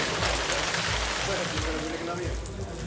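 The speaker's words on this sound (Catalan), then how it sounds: "Som a la capital del Hierro i està plovent bastant." Steady rain hisses down in the capital of El Hierro, a dense, even wash of drops on surfaces with a low rumble beneath, heard continuously and fairly loud.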